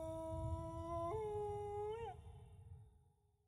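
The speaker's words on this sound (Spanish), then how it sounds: "el leve y lejano aullido sobre las soledades pantanosas se convirtió en una espantosa realidad" A single long, wavering howl from a dog rises slightly, holds, then bends downward and fades, with soft background rumble.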